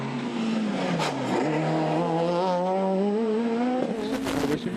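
Citroën DS3 rally car in a two-wheel-drive class of a 2013 European rally championship stage, its engine loud and close, climbing and falling through gear changes with sharp revving bursts and no voices.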